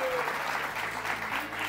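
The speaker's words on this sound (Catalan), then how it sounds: "Aplaudiment, aplaudiment." A short burst of applause from a studio audience for two school contestants on a televised quiz show, steady clapping throughout with a voice speaking over it.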